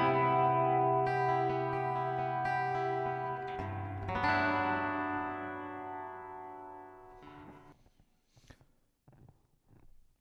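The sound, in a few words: Lag HYVIBE Tramontane electro-acoustic guitar played with built-in reverb effect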